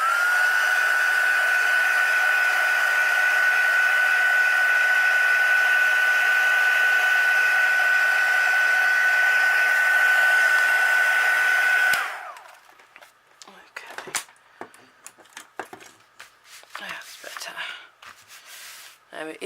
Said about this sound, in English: I'm going to give that just a quick blast with my heat gun because it still feels a little bit damp